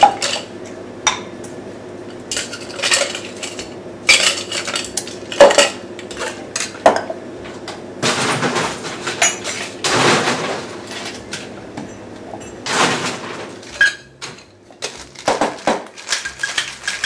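Cocktail shaker with ice being shaken for a drink of puree, cardamom bitters and apricot brandy, heard as bursts of loud rattling clatter separated by pauses, close and alone.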